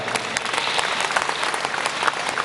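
Dense, steady applause from an audience at a live magic show in Chiang Mai, clapping for the stunt team; the clapping is close, loud and unbroken for the whole stretch.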